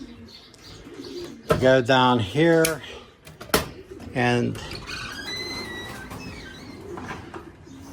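Pigeons coo in a loft. Low, rolling calls rise in a few bursts near the microphone, mixed with scattered clicks and chirps, while someone speaks briefly.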